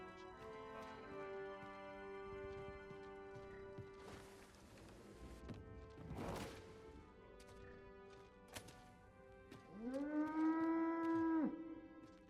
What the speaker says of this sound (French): Quoi ce bruit de vache?